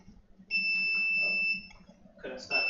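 A device beeps in a steady two-tone electronic alarm tone held for about a second, followed by a short burst of noise and another brief beep, with a low hum underneath.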